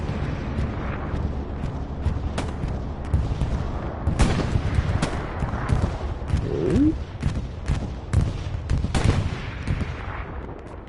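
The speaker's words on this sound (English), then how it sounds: "Bombing run inbound, it sounds like." Bombing run in the Hell Let Loose World War II shooter, a dense continuous rumble of distant explosions and scattered gunfire rolling on throughout, with sharper blasts poking out of the din.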